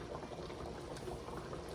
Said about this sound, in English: It's boiling, guys. It's boiling.